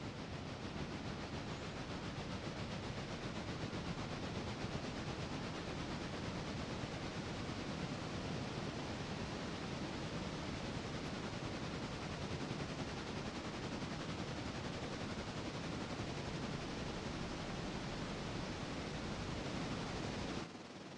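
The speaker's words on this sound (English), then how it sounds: "Listen to the hum of this engine." A diesel locomotive engine in the train-driving game Railroader gives a steady, unbroken broadband rumble that holds at one level from start to finish, with no voices over it.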